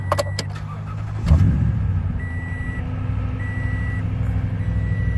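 A 2016 Toyota Tundra SR5 pickup idles with a steady, low throaty rumble. A soft thump sounds early on, and a few faint electronic chime tones repeat over the engine.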